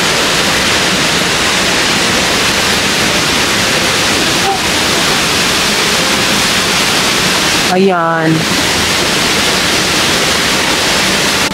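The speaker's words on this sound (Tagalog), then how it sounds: "Tignan niyo po yung kanilang falls mga kalab, di ba?" A waterfall at Tagnoty Falls roars as a steady, loud broadband rush that fills the whole clip, with a voice speaking briefly near the end.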